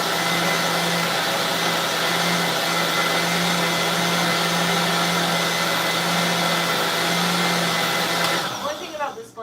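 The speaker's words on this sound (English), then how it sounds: "One thing about this blender is, yeah, you have to keep blending." A cheap $40 countertop blender runs continuously at high speed blending grapefruit and orange into a smoothie, a loud steady whirring roar that cuts off near the end.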